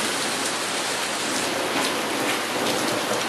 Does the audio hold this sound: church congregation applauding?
no